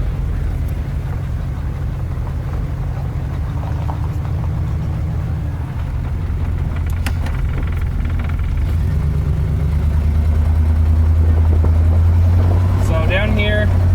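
An abandoned 1972 Corvette, barely restarted, is being driven. Its engine gives a loud, steady low drone that swells slightly toward the end, while someone talks over it from inside the car.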